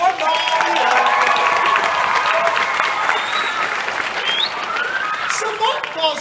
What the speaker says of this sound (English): Big round of applause for Mario!